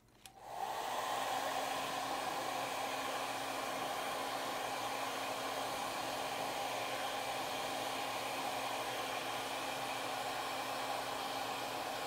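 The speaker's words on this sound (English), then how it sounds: "we're just going to blow dry the hair as is, without additional treatments or flat irons" Hair dryer blowing on hair, switching on and then holding a steady, even rushing whoosh close by with no break.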